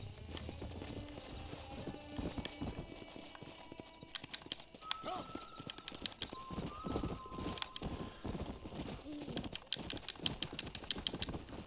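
Horse hooves clip-clop steadily in the Red Dead Redemption video game, a repeated rhythmic clatter running through the whole stretch alongside other game sounds, with a brief whinny and some faint talk.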